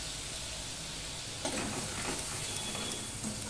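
Tomato and ginger paste sautéing in a pan over a low flame, a quiet steady sizzle that grows a little livelier partway through as it is stirred.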